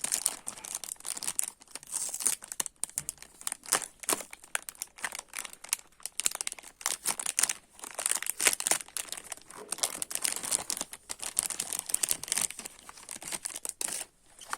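Wrapping paper crinkles and tears near the microphone as a gift is unwrapped, in a steady stream of busy rustling and crackling with no talking.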